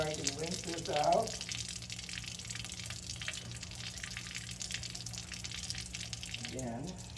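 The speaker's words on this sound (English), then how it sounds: "add some water to see if I can rinse this out." Water running from a tap at a laboratory sink, rinsing out a bag, a soft steady hiss and splash at low level with a brief louder burst near the start.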